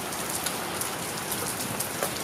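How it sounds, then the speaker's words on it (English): Heavy tropical rain pours down steadily in Bali early in the morning, a dense, even hiss of drops striking surfaces close by, with no voices. "It's currently pouring rain."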